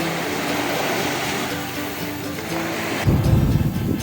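Cold sea waves churning into foam on the Odesa shore, a continuous close wash of surf with a louder surge breaking near the end, no voices.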